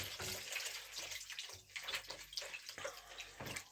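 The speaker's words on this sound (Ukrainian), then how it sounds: "Зараз додамо трошки води для того, щоб воно покривало саме м'ясо." Water poured into a multicooker over chicken thighs, a fairly quiet, uneven splashing and gurgling pour with short breaks, close by and without talk.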